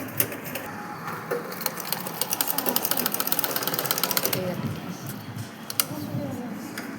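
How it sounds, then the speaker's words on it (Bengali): A sewing machine stitches a salwar in a rapid, close run of stitching that builds and then eases off over several seconds, with a voice talking quietly alongside. "দেড় ইঞ্চি সেলাই করছি"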